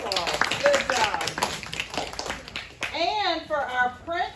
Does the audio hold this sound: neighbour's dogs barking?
no